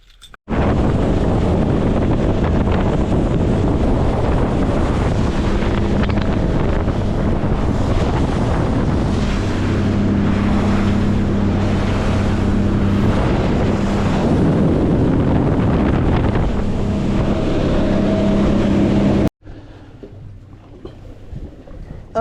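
A fishing boat motoring out of port onto the sea, with heavy wind buffeting the microphone over a steady engine hum and water rush that runs loudly for most of the stretch before cutting off abruptly.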